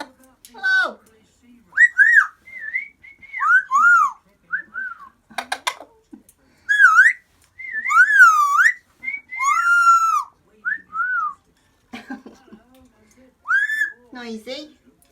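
Amazon parrot whistling close up in a series of short rising and falling whistles and chirps, separated by brief pauses, with a few squawky vocal bursts mixed in.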